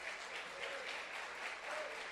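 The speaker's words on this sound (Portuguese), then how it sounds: "Pode aplaudir, irmão" Church congregation applauding at a Baptist service in Salvador, Bahia: a steady, dense wash of clapping from many hands, even and sustained throughout with no pauses.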